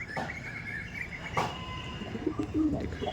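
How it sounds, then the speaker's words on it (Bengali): Flying pigeons of the Andhra breed are kept for sale at Thakurpukur. Soft coos and short chirps sound close by, with a brief flutter and low background noise, and no one speaks. "এই পায়রাটা ওই চালে গিয়ে বসে।"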